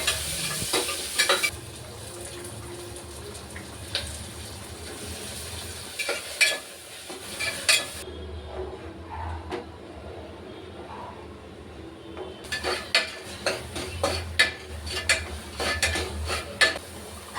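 Onion and a ground masala paste fry in oil for pulao, a steady sizzle with frequent scraping stir strokes and utensil clinks, close and moderately loud, with a short quieter stretch midway.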